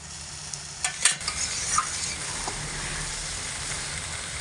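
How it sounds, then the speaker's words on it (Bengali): Colocasia greens with a hilsa fish head cook over medium heat, a close constant sizzle with a few quick stirring scrapes and clanks early on, then steady frying. "এইভাবে অনবরত নাড়াচাড়া করে সাত থেকে আট মিনিট মতো মিডিয়াম আঁচে রেখে খুব ভালো করে রস মেরে নিয়েছি"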